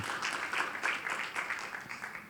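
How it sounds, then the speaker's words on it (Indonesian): A church audience breaks into applause after a performance, a moderate wash of many hands clapping, steady and somewhat distant, fading slightly at the end. "Kok enggak tepuk tangan?"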